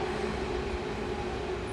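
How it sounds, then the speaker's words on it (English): Overpass train in Berlin rolling past with a steady loud rumble and rail hum, a faint tonal whine running through it, with no voices. "These like retro vintage trains with cool colors"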